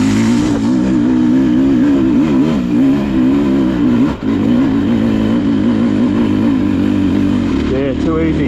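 A Beta XTrainer dirt bike in second gear revs hard up a steep hill-climb track, its engine loud and close, with a rider's voice talking over the roar.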